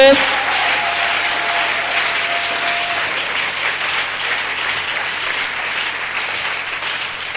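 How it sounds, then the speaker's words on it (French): A church congregation breaks into loud, sustained applause during a Sunday service, a dense wash of clapping that stays strong for several seconds and fades only slightly. A brief tone sounds near the start. "Acclame très fort."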